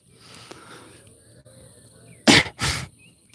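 Two quick, loud sneezes in close succession, the first sharper and the second a bit longer, after a stretch of quiet murmuring.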